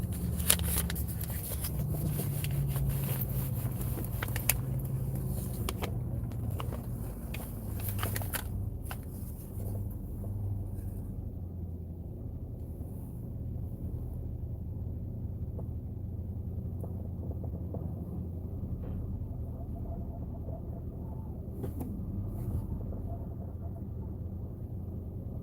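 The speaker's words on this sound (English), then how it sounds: "I'm going through the car wash today" An automatic car wash runs over a car on a cold day: a loud, dense wash of spraying and brushing noise that drops after about ten seconds into a steady low rumble inside the vehicle.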